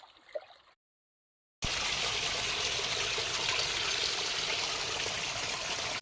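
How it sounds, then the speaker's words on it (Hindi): A strong, steady rush of water pours through a drain channel behind a cowshed, a constant loud flow that starts abruptly after a brief quiet gap with faint earlier sounds. "देखो इतना सारा पानी आ रहा है।"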